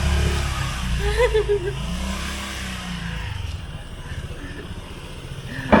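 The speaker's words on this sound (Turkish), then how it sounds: "Motor gibi." A motorbike engine revs and passes on a street in Vietnam, a mid-pitched rising drone that swells and fades, with people talking nearby over it.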